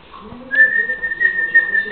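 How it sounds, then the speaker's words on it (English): A woman whistling a single long, clear sustained note outdoors, close and fairly loud over faint background noise. "Mum, stop whistling."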